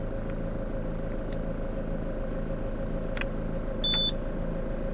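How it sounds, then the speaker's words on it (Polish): A car engine idles steadily just after being started while its head gasket is being repaired, a low continuous hum with a few faint clicks and one short electronic beep near the end. "Odpalamy na chwilę samochód, zostawię tam go chwilkę, niech sobie pochodzi."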